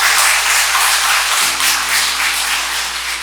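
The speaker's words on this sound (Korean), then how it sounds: "네, 모두 박수 한번 쳐주십시오." A hall full of temple devotees at a Buddhist Sunday dharma service claps together in a dense, even burst of applause that fills the space and slowly tapers.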